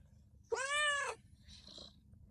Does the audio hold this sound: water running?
no